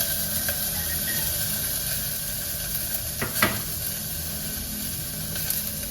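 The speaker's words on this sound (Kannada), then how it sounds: "ಇದು ಹಾಗೆ ಹಸಿ ವಾಸನೆ ಹೋಗೋವರೆಗೂ ಫ್ರೈ ಮಾಡ್ಕೊಳ್ಬೇಕು." Vegetables, garlic, green chilli and peas fry in hot ghee for a veg ghee biryani, giving a steady close sizzle and hiss with a few brief stirring scrapes.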